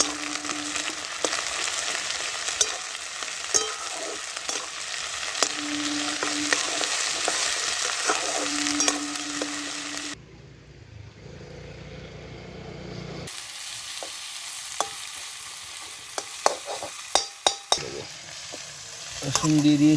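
Chopped onion frying in a pan with garam masala for a chicken gizzard dish, a loud continuous sizzle with stirring scrapes, then a brief quieter gap before sizzling and sharp spatula clicks resume.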